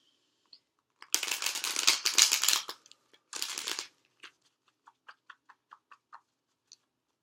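Two bursts of tarot card shuffling, a long riffle and then a shorter one, followed by a few soft, scattered taps and clicks.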